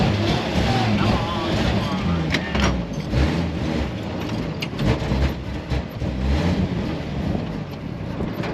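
A 1954 Chevy engine struggles and sputters as it runs out of gas, a rough, steady drone from inside the car with someone speaking over it.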